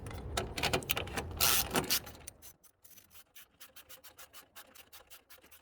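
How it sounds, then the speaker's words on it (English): Ratchet tightening light bar mounting bolts on a 2022 Chevrolet Silverado 1500, first a loud burst of scraping and rubbing, then a rapid run of close, even clicks. "so I hand thread them, and then I'm going to go ahead and ratchet them"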